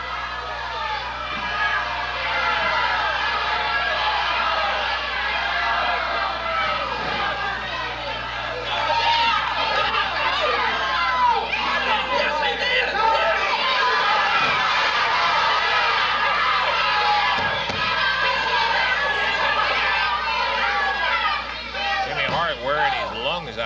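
A Memphis wrestling crowd shouts and chatters at the referee, a steady loud babble of many voices echoing through the arena with no break.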